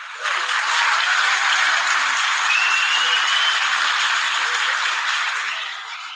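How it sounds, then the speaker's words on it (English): Sustained applause from an audience greets a co-host at the start of a weekly online show, a steady wash of clapping that swells quickly and holds for several seconds before tapering off, with no talking over it. "Again, another big clap for you, sir."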